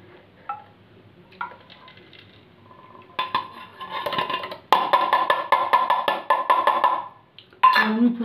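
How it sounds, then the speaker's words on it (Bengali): Soaked tea leaves being strained with metal kitchen utensils, a run of close, bright clinks and scrapes of metal against a pot that grows busier and louder toward the end, with no talking. "আমি পুরো চা পাতাটা ছেঁকে নিলাম।"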